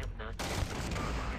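Rapid automatic gunfire from a weapon in the video game Starfield, a dense burst of shots fired at a fast rate, loud and continuous for about a second and a half.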